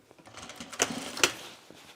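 A sewing machine stitching the shoulder seam of a bomber jacket: two quick sharp mechanical clatters stand out close by over a faint, low background.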